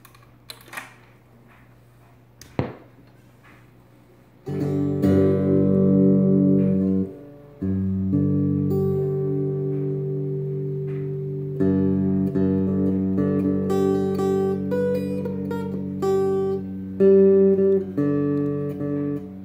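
A homemade 3-string electric guitar built from a USGI 30 cal ammo can, with a hand-wound humbucker pickup, plays amplified notes and sustained chords after a few taps and a sharp knock, clear and close with no talk.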